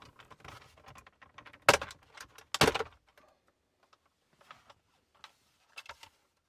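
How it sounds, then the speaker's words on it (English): A plastic rear air vent in a Mercedes W205 C-Class is pried out with a trim tool: two sharp, close snapping pops a second apart, then a few faint clicks and small taps in a quiet cabin. "To remove the rear vents, I'm going to use a trim tool and pry up on the top."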